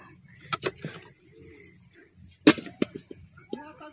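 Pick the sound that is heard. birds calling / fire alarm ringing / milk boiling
birds calling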